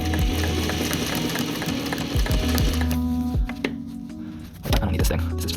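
A sewing machine stitches a Naturehike 10D down jacket in steady motor-driven bursts that rise and stop, with thread handling and small clicks between runs, up close.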